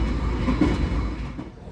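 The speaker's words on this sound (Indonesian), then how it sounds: "Perjalanan kereta api Argo Wilis sekarang tiba di stasiun Kutoarjo teman-teman" Argo Wilis passenger train rolling on rails, a steady close rumble with faint rhythmic wheel clatter, heard alone for a brief moment.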